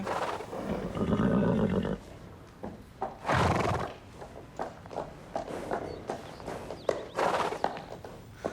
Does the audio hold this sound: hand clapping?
no